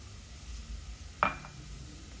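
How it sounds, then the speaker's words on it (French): A spoon stirs food in a cooking pot in a home kitchen, faint background sizzle throughout and one brief scraping clatter partway through. "et je vais mélanger"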